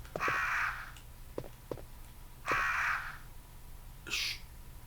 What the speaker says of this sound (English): You're not mocking birds, you're crows.